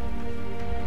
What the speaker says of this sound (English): It rains on Char?